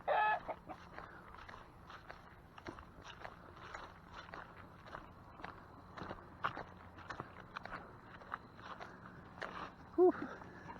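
Chickens cluck intermittently on a sheep farm amid scuffling footsteps and soft rustling, the calls fairly close but modest in level, with a louder squawk near the end.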